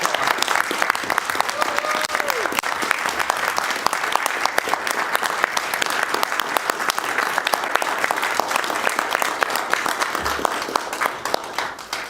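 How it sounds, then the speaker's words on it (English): A county commission meeting audience breaks into loud, sustained applause for an award recipient, with dense crowd clapping filling the room for about twelve seconds before tapering at the end. "I think we should applaud."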